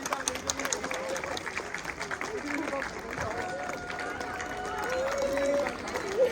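An audience at a school function claps, a scattered burst of applause strongest at the start, mixed with crowd murmur while someone talks over it.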